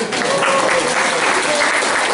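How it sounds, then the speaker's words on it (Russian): Audience applause fills a library night storytelling event, a dense, steady clapping from a crowd that carries loudly from start to finish without any voices over it. "Аплодисменти!"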